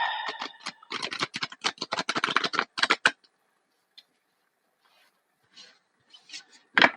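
Tarot cards riffled and shuffled by hand in a quiet room, a dense run of crisp flicking clicks for about three seconds, then a lull with a few scattered soft taps and a final snap.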